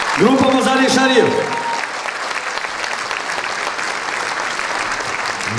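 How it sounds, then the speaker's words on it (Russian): A concert audience at the Black Rose 2009 music festival applauds, dense sustained clapping filling the hall while a voice speaks over the start, the ovation continuing steadily to the end. "Любовные аплодисменты более продолжительны."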